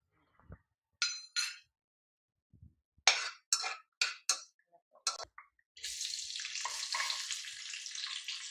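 Whole spices (cinnamon, cloves, cardamom and bay leaf) go into hot oil and ghee for prawn biryani: a few separate clinks and taps, then a loud, steady sizzle that starts abruptly and keeps going.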